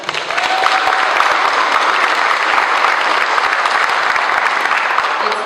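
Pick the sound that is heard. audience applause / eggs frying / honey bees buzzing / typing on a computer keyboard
audience applause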